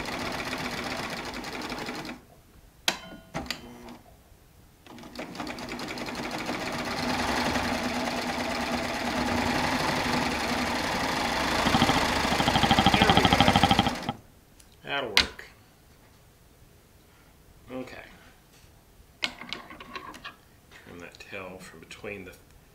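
A Baby Lock Triumph serger runs through Shannon Cuddle fabric on a four-thread setup, a loud continuous whirring stitch burst lasting several seconds, bracketed by shorter start-stop runs, clicks and handling noise, with someone talking between passes.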